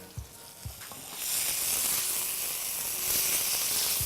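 Chopped onions sizzle steadily in a hot pan for chana bhaji, with a couple of soft knocks at the start before the frying hiss swells and holds loud and close.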